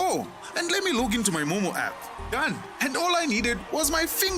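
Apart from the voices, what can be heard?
No everyday noise stands out behind the speech.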